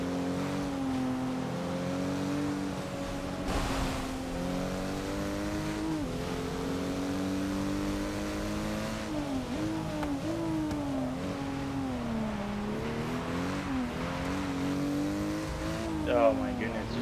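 Racing car engines in Forza Motorsport 6 drone and rev steadily as a car goes around an Alfa Romeo on a wet track, with pitch rising and falling through gear changes and a brief tire squeal near the end; a voice talks over the engines.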